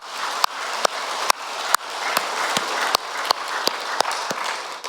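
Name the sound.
congregation applause in church service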